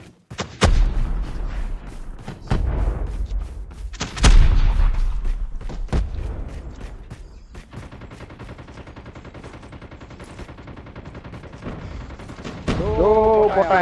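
Machine gun fire in the mobile game Call of Duty Mobile, loud bursts and rapid shots with booming impacts through the first half, then quieter ongoing battle noise, with players talking over it.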